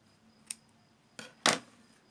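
Scissors snip the fabric corners of a sewn bag in three quick, crisp cuts, one light and two sharper, close by in a quiet room with no talking.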